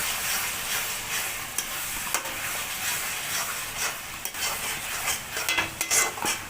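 Onions and tomatoes fry in a pan with ginger-garlic paste, giving a soft, steady sizzle. Frequent scraping stirs and light utensil clicks sit close by, and no one talks.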